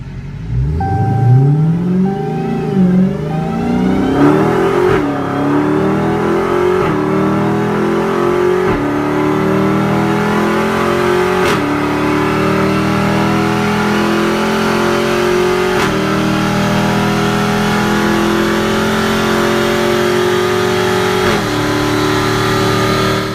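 A Dodge Challenger Redeye with a supercharged V8 accelerates hard, the engine note climbing steadily through repeated gear shifts, each marked by a brief dip before the loud, close roar builds again with no talking.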